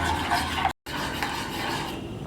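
A spoon scrapes and stirs through paneer aloo kurma in a pot, a steady rasping rub broken by one brief silent gap, close and moderately loud.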